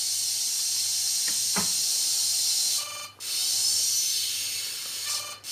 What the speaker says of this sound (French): Et on entend très bien le son émis par mon émetteur.